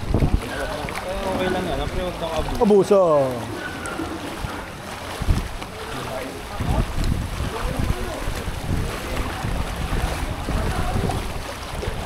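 A boat pushing through deep flood water gives a steady, continuous wash with a brief rising engine-like whine partway through, while people talk close by throughout.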